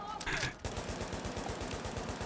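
Rapid automatic gunfire from the player's weapon in Tom Clancy's The Division co-op firefight, a steady stream of close, loud shots following a brief burst of other noise.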